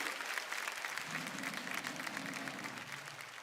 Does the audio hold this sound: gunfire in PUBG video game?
no